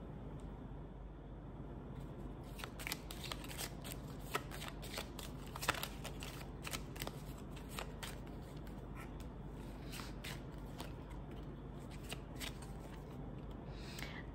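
A deck of tarot cards is shuffled close by, giving soft, quiet riffling and flicking bursts in an irregular series with no talking.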